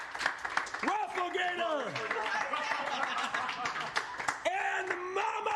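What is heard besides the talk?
audience applause at a roast event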